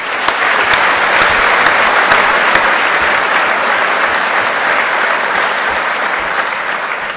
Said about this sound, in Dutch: geef ze dan nogmaals allemaal een geweldig applaus voor